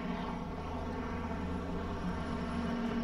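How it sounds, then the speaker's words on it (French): A French Army Caïman military helicopter flies by, its engine a steady, loud, continuous drone with a low rotor hum that fills the whole stretch. "à l'aide d'un hélicoptère Caïman de l'armée de terre"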